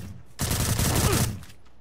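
A dense burst of rapid gunfire in the video game Knives Out erupts, loud and close, lasting about a second before cutting off, with low rumbling beneath.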